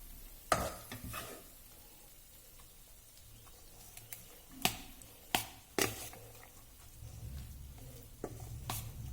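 Cooked navane (foxtail millet) rice being mixed with tamarind puliyogare gojju in a vessel, with soft intermittent stirring scrapes and a few sharper spoon clinks against the pot, close and fairly quiet, no speech.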